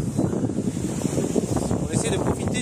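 Wind of about nine knots buffets the microphone at sea aboard a Mini Transat sailing boat, mixed with water rushing along the hull, a continuous gusty roar with a voice partly heard.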